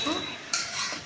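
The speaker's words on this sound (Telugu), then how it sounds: "10 నిమిషాలు ఉడికే వరకు 2-3 సార్లు కలపగలను" A spoon stirs chikkudukaya (broad bean) curry in a pan, scraping and clinking against the metal once or twice over a faint simmer, close and soft.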